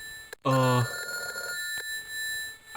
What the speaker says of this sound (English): I stopped and listened to the ringing of the phone.